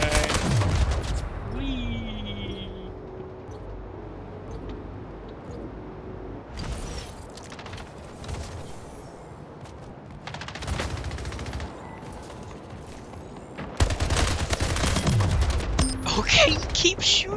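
Gunshots in the arena shooter Splitgate: a loud volley at the start, scattered sharp shots through the quieter middle, and another loud burst near the end, over game sound effects and some talk.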